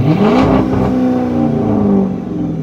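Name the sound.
Chrysler 300 engine revving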